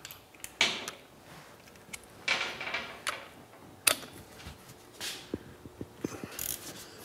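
A 13/16 socket wrench tightens lug nuts on a wheel, giving scattered ratcheting clicks and metallic creaks in short irregular bursts, fairly close and moderately quiet.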